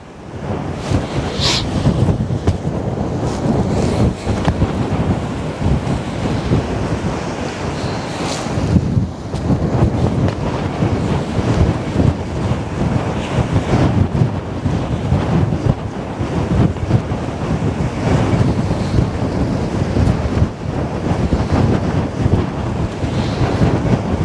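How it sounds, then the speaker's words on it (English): Strong wind buffets the microphone on the Westerschelde shore in the Netherlands, a continuous loud roar with gusty surges, mixed with surf and water noise and no talking. "This wind is crazy."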